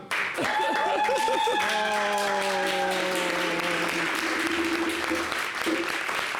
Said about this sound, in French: Applaudissez pour Pam.